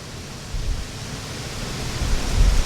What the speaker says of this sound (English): there's really loud wind